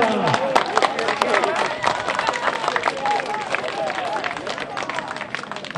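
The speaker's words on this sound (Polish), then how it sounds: "Wielkie brawa!" A crowd cheers and claps for runners at the 15 km street race in Jaworzno, a steady loud wash of applause and babble with an announcer's voice over it.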